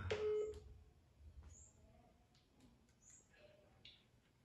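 Telephone keypad tones placing a call, a handful of short separate beeps spaced out over a few seconds, faint and close, with soft background noise between them.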